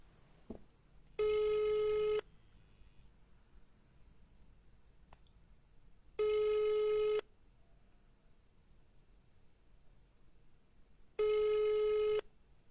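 Over a quiet line, a telephone tone sounds three times, each about a second long and spaced roughly five seconds apart. The repeated electronic ringing or busy tone comes through clearly during a call.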